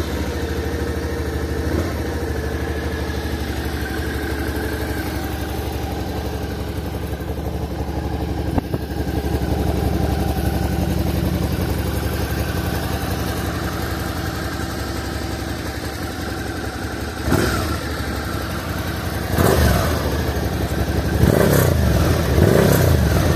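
A Suzuki SV motorcycle's engine idles steadily and loudly up close, then gets a few short blips of the throttle near the end, with no talking.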